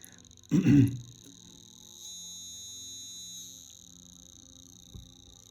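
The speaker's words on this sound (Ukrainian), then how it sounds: "Тут наша пищалка вже починає звучати." A small buzzer driven by a 555 timer chip on an electronics bench gives a thin, high electronic tone that swells after a loud knock and holds steady for a second or so, then continues more faintly.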